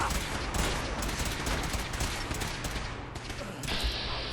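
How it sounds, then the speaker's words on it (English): Dense, rapid bursts of gunfire in the video game Fallout 4 fill the clip with loud, overlapping shots in a sustained firefight, easing briefly near the end before another burst. "So now we just fight our way out. I think I'll switch to the lever action rifle here."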